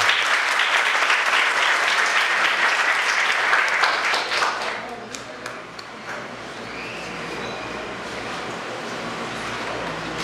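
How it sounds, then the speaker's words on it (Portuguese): A municipal council chamber audience at an extraordinary session in Jitaúna bursts into dense clapping that fades after a few seconds, leaving quieter room murmur and scattered sounds. "peço a todos uma salva de palmas"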